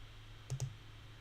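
Two quick, faint mouse clicks on a button in the Unity editor, close together over a low steady background hum.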